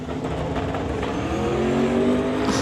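A Camaro drag car in a West Coast Outlaw Street qualifying round at a drag strip launches and accelerates hard, a loud, continuous high-revving engine roar with rising pitch, steady and dominant throughout.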